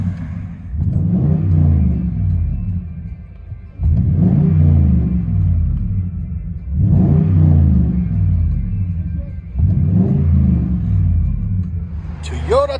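Cabin view of a 2018 Toyota Tundra 5.7L V8 with true dual exhaust and Carven R-Series mufflers: deep, loud rumbling revs rise and fall four times in a steady rhythm, with a brief high chime at the end.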